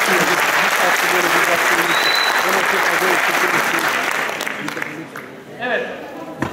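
Audience applause for a Çamlıhemşin horon dance team at a traditional music event, loud sustained clapping that thins and fades toward the end as a voice and some crowd noise come through.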